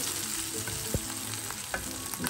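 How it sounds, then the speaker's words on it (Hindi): Curry leaves frying in a pan of hot oil give a steady close sizzle with crackling bursts and brief pops over a few seconds, with no voices. "थोड़ा सा करी पत्ता एंड दैट्स इट। मैं इसको फ्राई कर लूँगी।"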